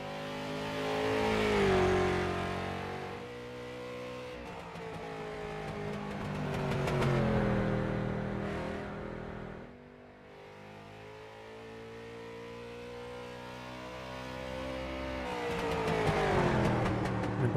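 Street stock race cars circle North Wilkesboro Speedway in the iRacing video game, engines revving loud and steady, rising and falling as they accelerate and lift through the corners, with no talk over them.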